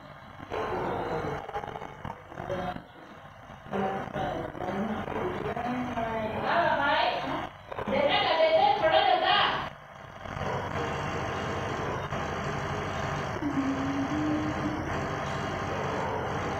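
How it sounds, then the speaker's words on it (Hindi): Tractor engine in the mobile game Farming Simulator 20, pulling a rotavator across a field; a continuous rumbling drone with rising revving surges in the middle, running under intermittent talk throughout. "ये अपना ट्रैक्टर जा रहा है। कैसे जा रहा है आप देख ही सकते हो कैसे आवाज़ निकल रहा है"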